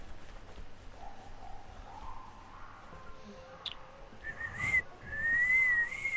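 A person whistles very softly, thin wavering tones that rise and drift, faint and close, with a brighter sustained whistle toward the end.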